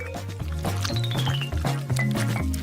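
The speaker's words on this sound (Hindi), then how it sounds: "सावधानी से रंगीन बैटर को वॉफल मेकर में डालेंगे और बेक करना शुरू करेंगे।" Colored waffle batter poured into a waffle maker, a thick liquid stream with soft squishy drips and glugs continuing steadily for a few seconds, close and fairly loud with no talk.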